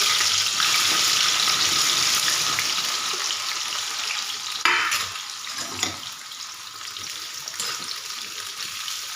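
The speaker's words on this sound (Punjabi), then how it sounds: "ਹੁਣ ਮੈਂ ਕਰੇਲੇ ਫਰਾਈ ਕਰਦੀ ਆ ਸੋ ਗਾਇਸ ਲੋ ਜੀ ਕਰੇਲੇ ਪਾ ਦਿੰਦੇ" Bitter gourd (karela) frying in a pan gives a loud, steady, hissing sizzle throughout, with a couple of brief knocks midway as the pieces settle.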